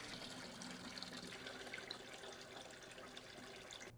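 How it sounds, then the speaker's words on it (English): Tap water flowing through the hoses of a Whirlpool combo washer-dryer during installation, a steady, fairly faint rushing hiss that continues without a break. "Now run water through the hoses for a few seconds to clear the lines."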